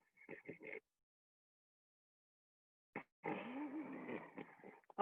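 A person imitates snoring during a sleep class, voicing short rough bursts early, then a longer rasping snore-like sound after a silent gap, close and fairly quiet.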